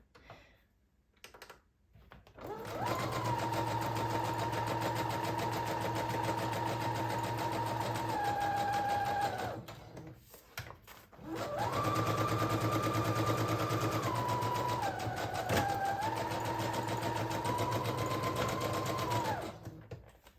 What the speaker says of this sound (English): we'll bring this to the sewing machine and we're just gonna sew all the way around